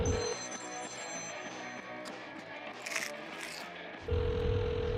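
A telephone rings in a cottage in short repeated electronic tones, with brief background voices and rustling.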